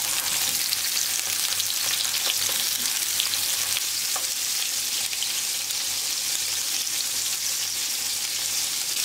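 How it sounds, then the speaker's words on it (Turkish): Close, steady sizzle of İnegöl meatballs frying in a pan with peppers and tomatoes, a continuous crackling hiss with occasional spatters and light stirring, no voices. "Yani kızarırken yanına biber atacağım birkaç tane ve domates."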